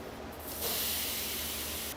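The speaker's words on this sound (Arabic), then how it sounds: "زيت بالقلاية، بعده نضيف اللحم المفروم" Minced meat dropping into hot frying oil in a pan breaks into a loud, steady sizzle and hiss that holds close and unbroken, with no talking over it.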